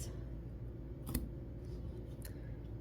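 Scissors cutting bias tape fabric for a quilt: two crisp snips about a second apart against a quiet room hum, close and sharp, with no voices.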